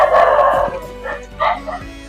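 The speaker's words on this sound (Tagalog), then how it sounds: "Parang sumisigaw yung aso." A dog yelps and barks in a string of short, high, strained cries, close and fairly loud, with a brief whimpering edge between the bursts.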